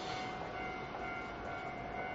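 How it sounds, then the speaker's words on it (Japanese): JR Hokkaido train arriving at a station platform, heard as a faint, distant, continuous rolling rumble with no voices. "4番線に列車が到着いたします。"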